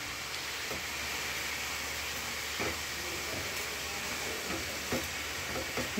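Spinach and fenugreek leaf curry fries steadily in a pan, a continuous close sizzle and hiss with a few faint clinks of stirring, no talking.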